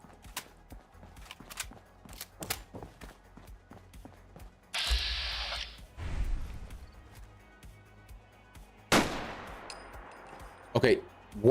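Rifle gunfire in the video game Fallout 4, a string of sharp cracks at irregular intervals with a few louder, longer blasts and bursts of noise between them.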